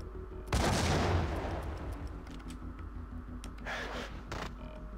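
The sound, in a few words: M79 grenade launcher shot and explosion in Max Payne video game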